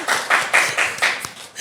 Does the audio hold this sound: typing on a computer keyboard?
no